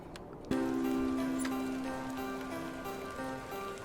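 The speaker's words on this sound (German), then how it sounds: "Und es regnet." Rain in the video game The Excavation of Hob's Barrow starts suddenly as a steady soft patter, with a sustained musical tone running beneath it, and no one talking.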